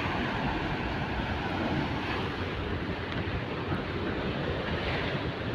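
Ocean waves surge in a continuous, loud broadband roar with no clear breaks, mixed with wind buffeting the microphone.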